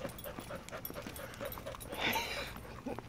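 A dog pants quickly and rhythmically at close range after exercise, with soft whimpering breaths throughout.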